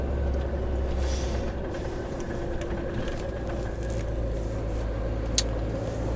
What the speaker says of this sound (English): It does get a bit noisy when the exhaust brake's working over time, like it is at the moment